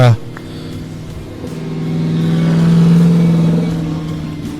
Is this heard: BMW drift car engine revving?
yes